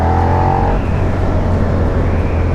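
A 2016 Suzuki SV650 V-twin motorcycle engine revs loud and close, a steady throbbing drone that shifts pitch partway through as the throttle changes.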